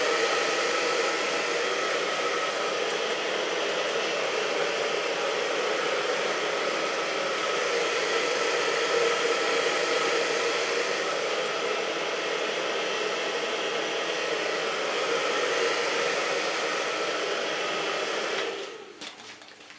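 A hair dryer blows steadily and loudly for about nineteen seconds while thick, short pixie-cut hair is being dried, its broadband rush holding constant before cutting off abruptly near the end.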